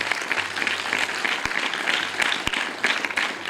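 Applause from a crowd at an outdoor meeting on a college ground, steady clapping at moderate volume with a few sharper individual claps standing out, heard briefly on its own.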